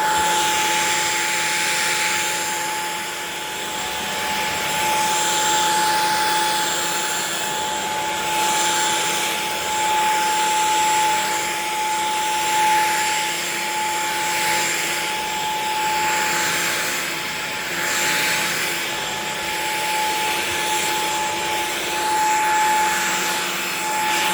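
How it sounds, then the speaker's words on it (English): A Shark stick vacuum cleaner runs steadily and loudly with a constant motor whine and airflow rush, swelling slightly as it moves, with no talk over it. "That is that vacuum."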